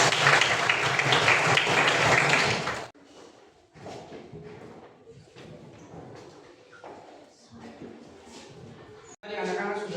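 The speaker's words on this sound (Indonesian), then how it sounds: "Iya, mari kita berikan tepuk tangan." Schoolchildren in a primary classroom clap together for a few seconds as a loud, dense burst, then it breaks off into scattered knocks, shuffles and murmuring voices before a brief final flare of noise.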